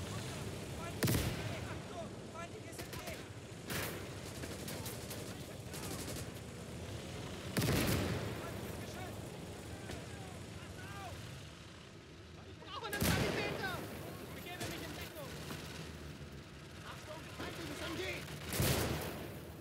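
Mortar and artillery fire thuds through a World War II battle in the Call to Arms: Gates of Hell video game, several heavy blasts landing at spaced intervals over a low rumbling backdrop, with some voices in between.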